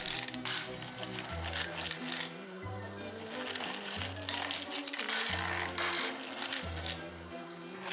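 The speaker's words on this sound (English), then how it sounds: "The machine can continue to run and sometimes the issue fixes itself." A 3D printed screw sorting machine runs with repeated rattling, clinking mechanical cycles and rolling metal screws, a steady rhythmic churn heard close up without talk.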